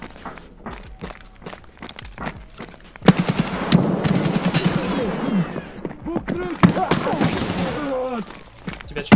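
Gunfire from the video game Escape from Tarkov, with bursts of automatic shots and single cracks over footsteps and busy game ambience, while players talk over it.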